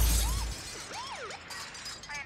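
A car crash sample in a soul hip-hop beat: a burst of shattering glass and debris opens, followed by swooping, warbling electronic tones in the mix.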